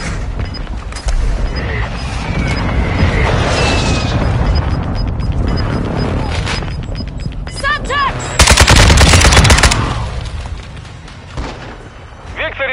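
Enemy precision airstrike in Call of Duty MW2: loud bursts of gunfire and heavy booming blasts, with the loudest broadband explosion burst standing out midway through amid constant battle noise and game voice callouts.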